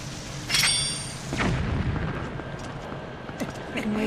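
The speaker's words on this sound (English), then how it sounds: "I'm wasting my bombs now." Bombs exploding in The Legend of Zelda: Twilight Princess, a sharp blast followed by rumbling booms and debris, moderately loud and spread across a few seconds.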